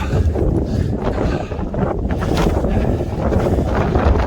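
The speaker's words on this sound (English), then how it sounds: "it's windy out." Strong wind roars steadily across a mountain trail on the Appalachian Trail near Mount Eisenhower, loud gusty buffeting against the microphone throughout with no voices.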